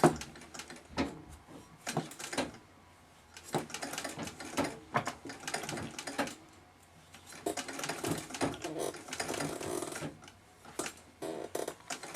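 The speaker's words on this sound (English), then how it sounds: "See how I'm not good at treadling?" A treadle-powered Singer 66 sewing machine runs in uneven bursts of close mechanical clatter and thumping, stopping and starting several times, with no talking.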